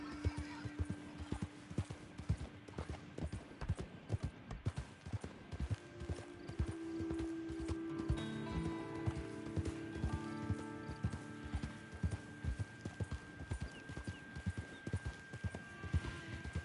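A horse gallops in Red Dead Online, its rapid hoofbeats clip-clopping in a steady rhythm throughout, with a whinny and faint background game sounds.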